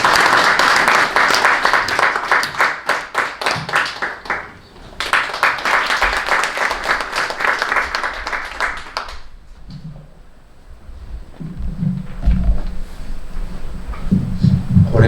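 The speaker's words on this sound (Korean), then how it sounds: "뜨거운 박수를 해라." A church congregation gathered for a March 1st commemorative service applauds a visiting former provincial governor, brisk dense clapping with a short dip before it fades out, followed by low rustling and murmurs.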